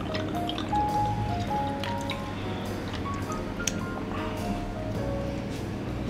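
Dark rum pours into a Dark and Stormy cocktail at a bar in Belfast, a soft liquid trickle with small drips over a busy bar hum.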